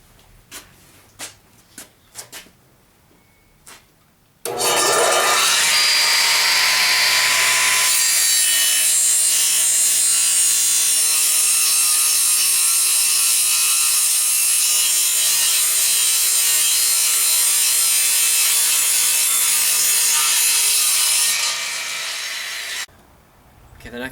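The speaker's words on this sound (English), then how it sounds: "the next step is to cut on the radial arm saw" A radial arm saw powers up and slices through a wooden baseball bat billet in one long, loud continuous cut lasting most of the stretch, preceded by a few sharp knocks and followed by a brief spin-down.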